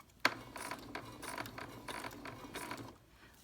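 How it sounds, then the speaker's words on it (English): A sewing machine stitches along a row of sequins on a small doll bag, giving quiet, steady mechanical whirring in short rhythmic bursts, heard close with no talking. "we're gonna sew along this top row of sequins as best we can"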